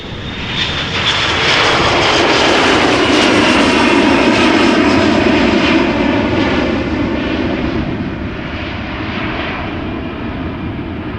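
Loud, steady roar of airliner jet engines on a runway at Amsterdam Schiphol Airport, swelling to a peak mid-clip and easing slightly toward the end, with no voices.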